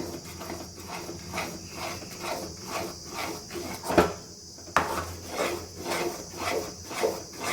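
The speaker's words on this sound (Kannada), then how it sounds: "ಈ ಕಡಲೆ ಹಿಟ್ಟು ನೀಟಾಗಿ ಇದನ್ನು ನೋಡಿ ಮಿಕ್ಸ್ ಮಾಡ್ಕೋಬೇಕು ಕೈ ಆಡಿಸ್ತಾನೆ ಇರಬೇಕು" Gram flour batter for Mysore pak being stirred in a pan, a steady rhythmic scraping and clinking of a spoon against metal, close and continuous with regular strokes.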